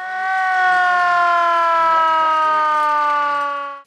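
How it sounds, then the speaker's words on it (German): A fire station siren wails as one steady, loud, multi-tone note. It swells at the start, holds evenly for several seconds, then begins to fade, with no voices. "prompt heulte auch schon die Sirene auf"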